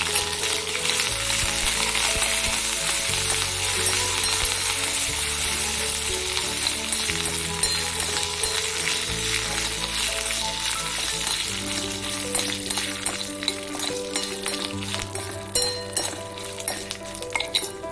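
Tempering spices and curry leaves sizzle and crackle steadily in hot oil for a mango coconut chutney, with occasional clinks of a spoon against the pan, close and continuous.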